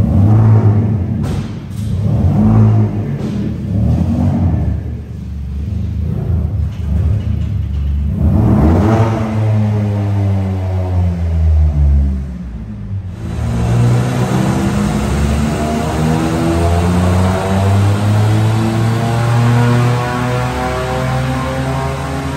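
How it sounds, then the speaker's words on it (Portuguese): A VW Up TSI with a hybrid turbo and stage 2 tune revs hard during a dyno pull. The engine drone climbs repeatedly in pitch, drops off, then climbs again in a long, loud rising sweep, with no talk. "fizemos a puxada então aí com a turbina híbrida e o acerto stage 2 do carro que ele já tinha"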